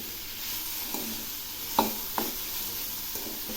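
Pointed gourd with green chillies stir-frying in oil, a soft steady sizzle broken by a few sharp scrapes and knocks of a spatula against the pan, close by and without talk.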